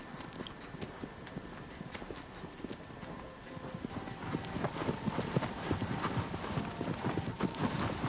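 Hooves of a horse clip-clop steadily across the ground in Shadow of the Colossus, a continuous galloping rhythm that grows louder and denser partway through, with faint wind and occasional speech in the background.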